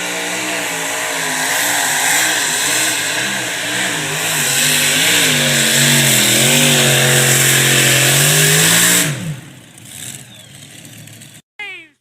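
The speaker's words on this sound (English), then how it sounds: "Cameron Neaves out of Mcadoo, Texas, triple engine, big block Chevrolets, cotton candy." Triple-engine big-block Chevrolet truck roars at full throttle, a loud sustained howl with wavering revs that climb and then drop off sharply, followed by brief sputters.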